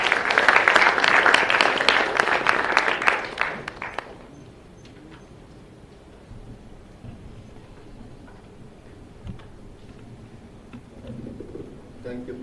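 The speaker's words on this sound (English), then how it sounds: "A big round of applause, everyone." Audience applause bursts out strongly at a seminar in a hall, dense clapping for about four seconds before dropping off abruptly, leaving quiet room noise and faint low voices.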